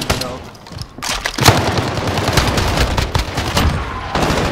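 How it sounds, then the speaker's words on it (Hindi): Rapid automatic gunfire from a shooter video game's search-and-destroy match on a customs-style map, dense bursts of shots with booming impacts running almost continuously at close range, loud throughout with faint voices underneath. "ये देख मैं गन चला रहा था"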